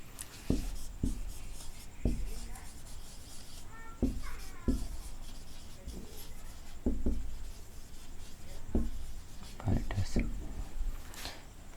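A teacher writes a sentence on a board in an English grammar class, giving soft rubbing and scratching strokes with sharp taps at irregular intervals. Faint voices sit in the background.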